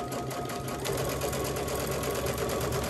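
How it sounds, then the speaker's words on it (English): A sewing machine stitches binding onto a quilt at a mitered corner, running steadily and close by with a continuous whirring hum and no pauses. "I am now ready to sew right back onto my quilt"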